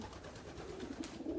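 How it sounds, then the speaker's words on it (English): Racing pigeons at a loft in sunny Holland, giving soft low cooing calls that swell in short, throaty pulses, close by, with no one talking. "the pigeons are enjoying"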